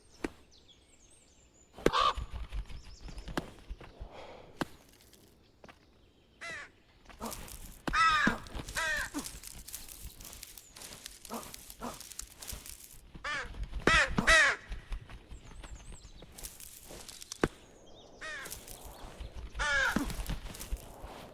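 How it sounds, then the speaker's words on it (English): A seagull in the climbing game Peaks of Yore gives harsh, scattered cries, several loud calls separated by quieter stretches with faint background movement. "The fucking seagull won't leave me the fuck alone!"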